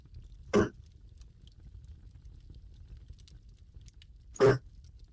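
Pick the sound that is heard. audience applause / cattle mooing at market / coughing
coughing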